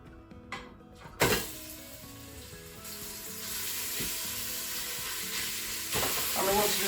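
Mince hits a hot pressure cooker pot with a sudden clatter and then settles into a steady, low sizzle of browning meat, with occasional scraping and stirring knocks.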